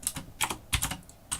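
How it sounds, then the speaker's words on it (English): Keys clatter on a computer keyboard in short bursts of typing, four clusters of clicks separated by brief pauses, close and fairly quiet, with no talk. "Just hit hashtag on your keyboard"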